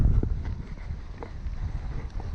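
Wind buffets a microphone while sailing across Bjørnafjorden, giving a steady close roar with low rumbling gusts and faint water and hull noise underneath, continuous throughout with no talking.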